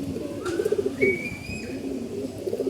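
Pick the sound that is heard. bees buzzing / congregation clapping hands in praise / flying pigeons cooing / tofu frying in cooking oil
flying pigeons cooing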